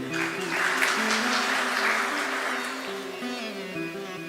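An audience at a Gujarati talk bursts into steady applause, a dense wash of clapping that carries on throughout, with a voice and music tones faintly underneath.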